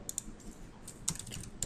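Keystrokes on a computer keyboard while text is entered in editing software, a few quiet separate clicks with a short burst near the end, close and alone with no talk.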